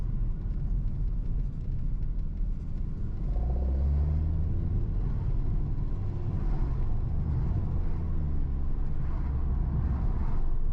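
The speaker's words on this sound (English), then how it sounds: "Nice smooth gear change." An Alpine A110S sports car cruises along a road, with a steady low engine rumble filling the cabin and a smooth gear change partway through. The engine note shifts slightly, and no one speaks.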